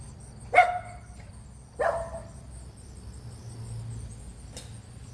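A dog barks twice in the distance, two short separate yelps a second apart, faint over a low steady hum and a quiet garage ambience while a 1965 Ford Thunderbird is being rebuilt.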